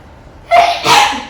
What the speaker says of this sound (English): And I'm going to sneeze again.